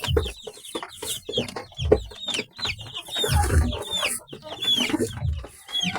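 Black Australorp chicken clucking close by, a busy run of short throaty clucks and chirpy calls with some rustling and low thumps underneath.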